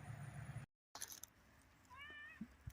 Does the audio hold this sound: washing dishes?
no